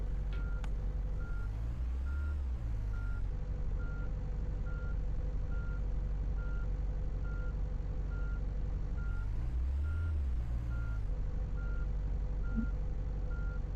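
Steady reversing beeps from a tour bus in Tourist Bus Simulator, evenly spaced and continuous over a low idling engine hum, with a couple of brief air-brake hisses and no talking.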